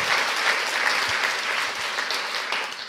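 Steady audience applause after a panel discussion following a film screening, thanking six guest speakers; dense, even clapping from a full room throughout, with no talking.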